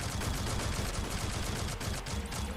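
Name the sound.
plasma gun rapid fire in Shadowgun Legends video game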